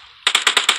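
Five rapid gunshots from an automatic weapon in PUBG Mobile crack out in a quick, evenly spaced burst after a brief electronic tone.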